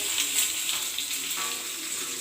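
Cumin seeds and asafoetida crackle and sizzle steadily in hot oil, a close, hissing fry with no voices.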